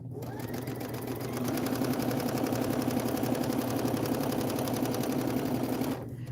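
A sewing machine runs steadily through straight seams while chain piecing, its rapid needle chatter continuous and close, speeding up slightly before stopping near the end.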